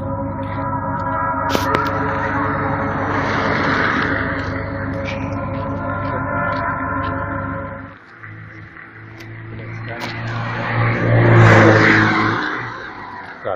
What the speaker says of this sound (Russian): Так, что машины разъехались.